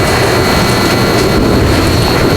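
A large Sea King naval helicopter drones loudly and steadily at close range, its turbine whine and dense rotor roar filling the whole moment without any talk.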